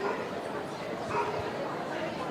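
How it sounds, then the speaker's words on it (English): A Norfolk Terrier yips and barks briefly outdoors among a crowd at a royal visit, partly buried under a commentator's voice and general crowd noise. "Claire Haythwaite meeting Betty the dog, a Norfolk Terrier"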